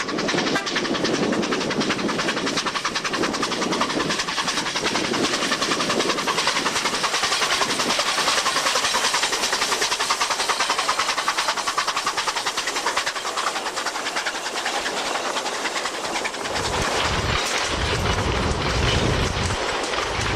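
Steam train running on rails near a small port at Rio Gallegos, Argentina, heard as a steady, loud rolling rumble of carriages on track lasting throughout, with heavier low thumps near the end.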